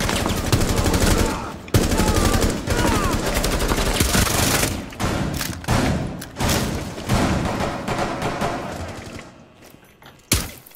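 Rapid, loud gunfire and pistol shots in Rainbow Six Siege, a tactical shooter game, with dense cracks and thuds nearly continuous for several seconds before tapering off into a few last shots.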